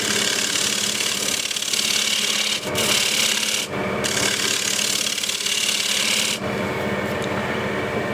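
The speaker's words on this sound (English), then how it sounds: "I can now finish this with a scraper" A hand scraper finishes a wooden piece turned on a lathe, giving a close, continuous rasping scrape over a steady motor hum, with short breaks where the blade lifts away.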